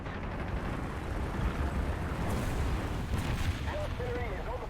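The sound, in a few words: artillery fire in War Thunder video game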